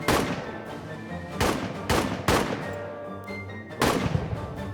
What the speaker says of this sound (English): Moderate artillery shelling.